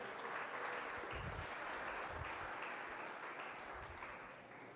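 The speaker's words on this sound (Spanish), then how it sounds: "Dele un aplauso a la gloria de Dios" A church congregation claps together during a Spanish-language sermon, a dense, continuous burst of applause filling the space before tapering slightly toward the end.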